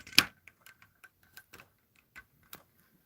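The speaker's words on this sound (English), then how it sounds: "Okay, I dropped the phone." A mobile phone knocks down onto a hard surface in one sharp clack, followed by a few faint scattered ticks and taps as it settles and is handled, with no talking.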